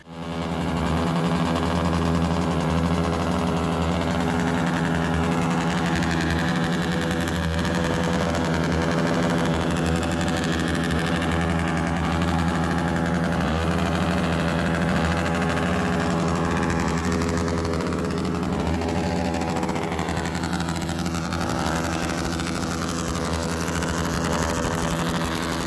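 A modified Yamaha Vixion motorcycle engine idles close by with a steady, even, droning putter that holds unchanged for the whole stretch.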